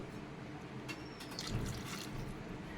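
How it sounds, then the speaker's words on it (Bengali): Hot water pours into a pot of cashew chicken curry in a steady, close splashing stream that swells slightly toward the middle, with no talking. "গরম জল দিলে কালারটাও খুব ভালো আসে এবং তাড়াতাড়ি সিদ্ধ হয়ে যায়"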